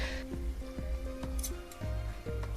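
Blunt scissors trim fabric for a doll sock, giving a few soft, close snips in an irregular rhythm with light rustling and clicks, faint and without talk.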